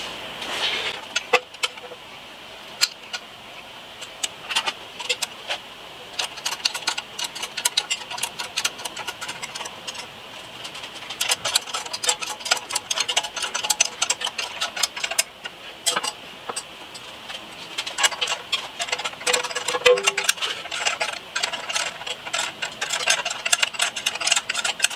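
Sharp metallic clicks and clinks of hardware being fitted as a motorcycle front mount is bolted in on an Indian Larry tribute Panhead build, scattered irregularly over a steady low workshop hum without speech.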